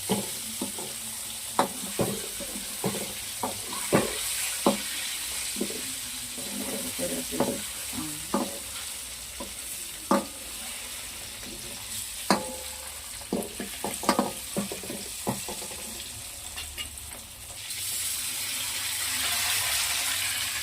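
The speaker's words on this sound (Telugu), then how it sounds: "ఎగ్స్ వేసి స్లోగా రొటేట్ చేసుకోవాలి" Eggs cracked in one at a time for egg biryani sizzle in a hot pan while a utensil scrapes and stirs slowly, sharp clinks recurring under a steady frying hiss, no talk.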